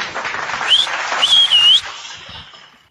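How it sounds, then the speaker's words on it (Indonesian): A crowd at a preacher's talk breaks into clapping, with sharp whistles cutting through the applause before it dies away quickly. "Tepuk tangan lagi deh."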